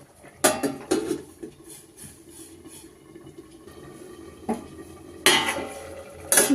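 Stirring in a pan of lau shak (bottle gourd greens) cooked with sesame and poppy seed paste, utensil scrapes and clinks and a few sharp pot-and-lid clatters, the loudest near the end as the lid goes on.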